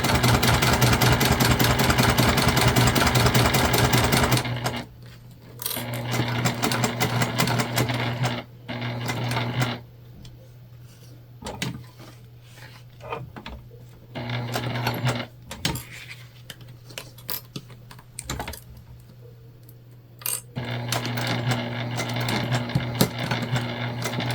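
A domestic sewing machine basting fabric for a candy bag runs in a loud steady whir, then stops and restarts in short bursts with pauses, clicks and handling noises between runs.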